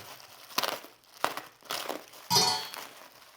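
Plastic hardware packaging being ripped open, with several sharp crinkling, tearing bursts and a louder final rip, close up with no talking.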